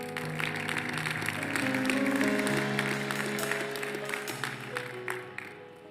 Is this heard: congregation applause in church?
yes